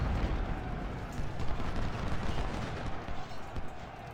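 Musket volleys and artillery fire from a battle in the Ultimate General: Civil War video game form a dense, continuous roar of crackling shots and rumbling booms.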